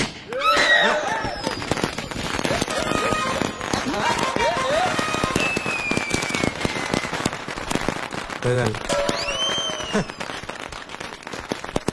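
A string of firecrackers rattles off in a rapid, continuous volley of sharp pops, with voices and commotion underneath.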